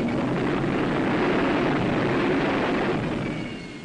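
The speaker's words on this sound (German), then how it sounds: "Die Feuerwehr übernimmt den Schutz des Technikers, der in der Lärmschutzhalle das Zusammenspiel von Triebwerk und Flugzeug am Boden testet." A jet engine of an F-104G Starfighter runs at high power during a ground test inside a noise-protection hangar, a loud, steady broadband roar that holds throughout and eases slightly at the end.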